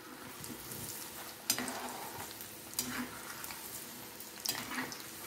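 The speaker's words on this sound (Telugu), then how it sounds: "మీడియంలో పెట్టుకొని బాగా ఫ్రై చేసుకోకూడదండి, దోరగా వేయించాలంతే" Drumstick pieces frying over medium heat in foaming groundnut oil in a kadai, a steady soft sizzle running throughout with a few sharper clatters of stirring, no voices.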